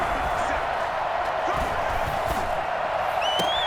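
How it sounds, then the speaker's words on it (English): Stadium crowd in the video game Madden NFL 21, a dense, continuous roar of cheering ahead of a big third down, loud and steady throughout, with a whistle-like tone rising near the end. "the crowd getting into it as we come up on a big third down"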